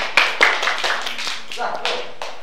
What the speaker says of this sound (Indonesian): Ya, tepuk tangan untuk kelompok pertama.